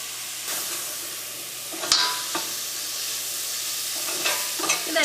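Tomatoes and salt stirred into okra masala frying in a pan, with loud continuous sizzling and hiss and a few scraping spoon strokes and knocks against the pan, close up.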